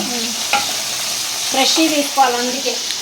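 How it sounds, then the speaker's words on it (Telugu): Food being stirred in a frying pan, with a steady hiss of sizzling and scraping, clinking strokes from the utensil close by. Faint tonal sounds rise intermittently underneath. "మధ్యలో ఇలా తీసి కలబెడుతుంది"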